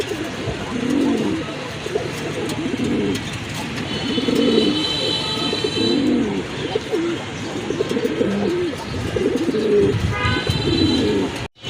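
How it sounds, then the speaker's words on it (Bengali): A male pigeon in a pair coos loudly and close by, in repeated rhythmic phrases over a steady low background hum. "এক পেয়ার কবুতর আছে, ডাকতেছে তো এটা নর"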